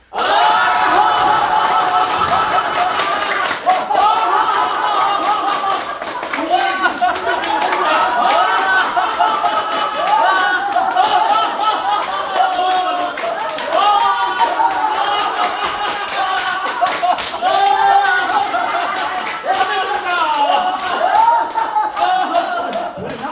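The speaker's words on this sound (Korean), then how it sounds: "축하해 주는 박수예요" Church audience clapping and cheering together in celebration at a laughter-therapy session, a loud continuous wash of hands and excited voices with shouts mixed in throughout.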